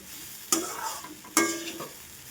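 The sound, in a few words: sautéing and stirring poha upma in a pan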